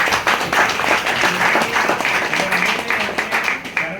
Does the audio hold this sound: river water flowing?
no